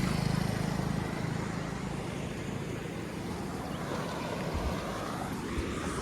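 Floodwater from heavy rain flows through farm fields, a loud, continuous broadband rush with a low rumble underneath that holds steady throughout, with no voices.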